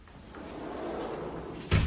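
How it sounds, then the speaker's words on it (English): Door of a four-season room pulled shut, a soft slide building to a single solid thud at the end, close and alone. "Shutting the door is easier."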